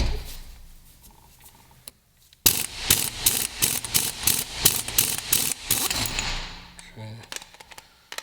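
A large socket wrench ratchets on a manual steering box during a rebuild, its pawl clicking in a fast, loud run of repeated strokes with a brief pause before and a faint thud after.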